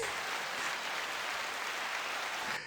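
A live audience at a hip-hop talk breaks into sustained, dense applause, a steady wash of many hands clapping at even loudness that cuts off abruptly near the end.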